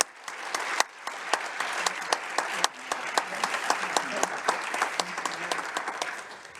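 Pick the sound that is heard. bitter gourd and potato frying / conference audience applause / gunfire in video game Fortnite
conference audience applause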